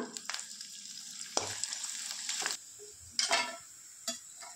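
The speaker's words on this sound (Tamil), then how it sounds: "அடுத்து ஒரு கடாயில் கொஞ்சம் எண்ணெய் சேர்த்துக்கோங்க. கொஞ்சம் கொத்தவரங்காய் வத்தல் வச்சு எடுத்துக்கலாம்." Dried cluster beans frying in hot oil in a kadai, sputtering in sharp intermittent bursts of sizzle with quieter crackling gaps between them, close by and fairly soft.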